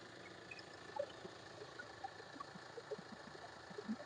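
A 2015 Hyundai Creta SX diesel with about 81,000 km idles at a faint, steady low drone, with light irregular ticking and knocking above it.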